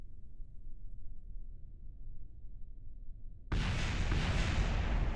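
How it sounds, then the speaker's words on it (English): Rocket explosions in Kerbal Space Program as solid rocket boosters fall away: a low rumble gives way to a sudden loud, broadband blast that stays sustained and roaring until the end. "And explosions happening over here."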